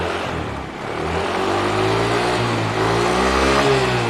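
A Honda Beat carbureted scooter engine fitted with a Kawasaki CDI revs up, a close, loud, steady mid-pitched engine drone that dips briefly and then climbs and holds at higher revs, with no talk over it.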